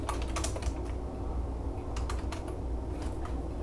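Computer keyboard keys clatter in quick, uneven bursts of typing, close and fairly quiet, with brief pauses between runs of keystrokes and no voices.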